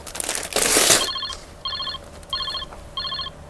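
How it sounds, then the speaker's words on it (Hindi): A phone rings in a clothing shop in a Surat textile market: four evenly spaced electronic ringtone bursts, clear and close, following a brief loud rustle at the start. "फोन आ रहा है।"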